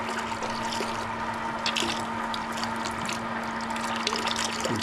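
Vinegar drains out of a tankless water heater during a flush, a steady, close stream of liquid running continuously under a constant low pump hum.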